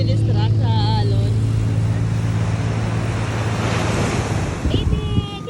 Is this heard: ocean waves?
yes